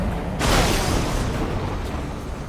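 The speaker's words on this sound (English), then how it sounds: "Did you see that explosion? Looks like that's one of them down." A missile blast in the combat flight game Ace Combat 7 lands as a sudden, loud, broad boom with a rumbling tail that lingers and slowly decays, heard alone without talk.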